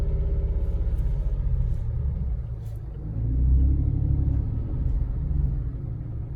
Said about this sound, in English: And I'm going to reverse towards the bus stop,